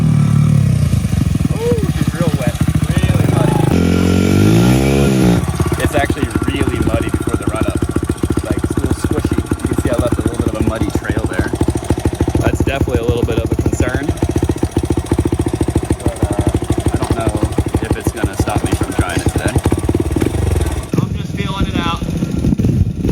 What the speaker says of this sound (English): Get the bike warmed up and make sure it's in the right gear.